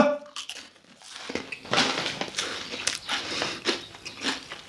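Crunchy coconut crispy rolls (Aroi Asian Roll thong muan) are bitten and chewed close to the mic, giving a sharp first crack followed by repeated crisp crunching and chewing.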